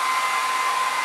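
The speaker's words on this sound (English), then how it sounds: "Now I am going to place it in front of the hair dryer, and I am going to on it." A hair dryer runs at full blast, a loud, steady whooshing hiss with a faint motor whine, continuous for the whole short stretch with no voices.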